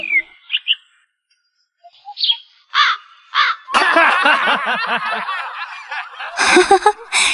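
Short high chirps and squeaks from a sparrow, several bursts separated by pauses, then a dense chattering stretch with harsher calls near the end.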